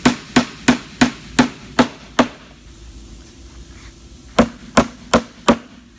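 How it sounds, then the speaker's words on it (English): Sharp hammer strikes driving nails into a laminate countertop end cap ring out, seven in a steady rhythm, a short pause, then four more blows, close and loud with no talking. "I'm going to go ahead and hammer it on."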